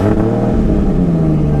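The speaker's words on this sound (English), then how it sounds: "That exhaust just, sounds so good." A 1997 Toyota Supra Turbo built by Jotech Motorsports revs through its aftermarket exhaust, a loud close throaty engine note that rises and settles in a brief burst with no talking.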